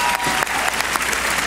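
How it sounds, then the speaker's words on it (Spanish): An audience at the Premio de la Gente awards ceremony breaks into applause, a brief, dense wash of steady clapping with no voices. "Recibamos con un aplauso al señor Felipe Herrera."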